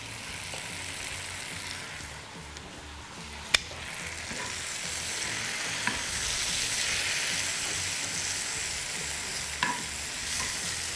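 Spinach leaves cooking in butter in a pan, with a continuous moderate sizzle, soft stirring scrapes and an occasional sharp utensil tap.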